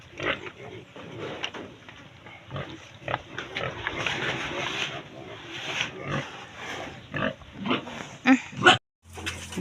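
A pig on a Filipino backyard farm grunts and snorts repeatedly at close range, rough irregular noises over a steady outdoor background, ending with a brief sharp knock.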